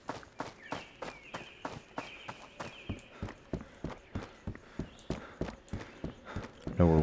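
Horse hooves clip-clop on the ground in a video game, a steady, even walking rhythm of about two to three beats a second that continues for the whole stretch at moderate volume.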